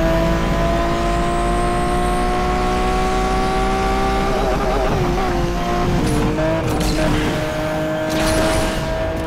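Race cars in the Asphalt 8 mobile game, including a Lamborghini Veneno, roar with steady loud engine drone and shifting revs throughout, with tire squeal and skidding bursts later on.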